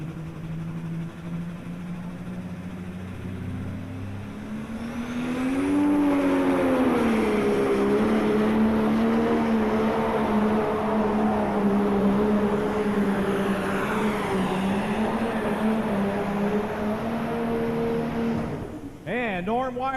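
A truck and tractor pulling machine at a farm machinery show roars through a pull run, the engine note rising and holding a loud, steady drone for many seconds before cutting off abruptly near the end.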